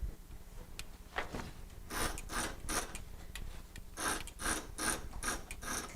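Ratchet of a quilting frame clicking as it turns while quilt backing is loaded, a run of quick dry mechanical clicks in bursts, close and fairly quiet, with no talk.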